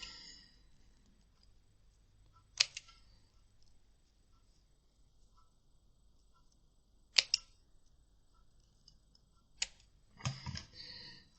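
Scissors cut paper in a few quiet, crisp snips spread across a near-silent room, ending with a quick cluster of cuts.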